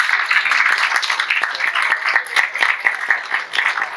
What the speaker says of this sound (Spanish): este aplauso va para ella a la distancia